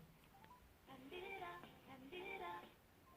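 Dialing tones play on a phone as Bixby places a call: a few faint soft blips at first, then two clusters of rapid electronic tones, quiet and close.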